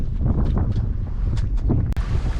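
Wind rushes across the microphone aboard a sailboat on the water after a race near Poplar Island, a loud, continuous low buffeting roar with gusty fluctuations and no voices.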